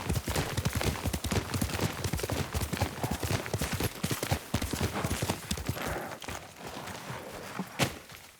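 Horse hooves clip-clopping in the video game Ghost of Tsushima, a brisk, steady run of close, distinct hoofbeats that slows and thins toward the end.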